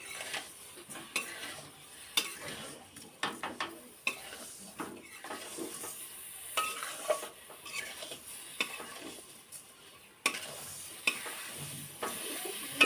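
Amla (Indian gooseberry) morabba being stirred in a pot, a spoon scraping and clinking in repeated irregular strokes with soft sizzling beneath, close and moderately loud.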